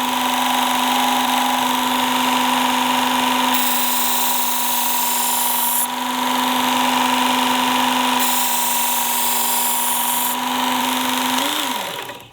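A Work Sharp Ken Onion Edition knife sharpener with its blade grinding attachment whines loudly and continuously as a knife passes across the belt, the steady motor tone shifting slightly with each stroke before spinning down at the end.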